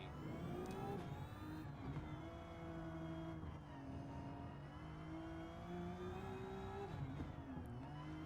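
Porsche Vision Gran Turismo race car engine in Gran Turismo 7, a steady high-pitched whine that rises and falls with throttle changes, continuous and prominent throughout with no talking.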